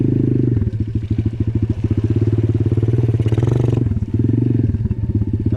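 A four-wheeler ATV engine eases through deep mud on a trail, a loud, steady low chugging idle with brief throttle swells and a short burst of splashing midway, continuous throughout.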